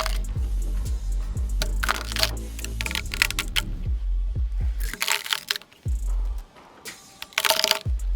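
Wood kerf cuts are knocked out with sharp, irregular cracks and crunches as joinery faces are cleared for chiselling during timber work on a building, with loud close impacts separated by brief pauses.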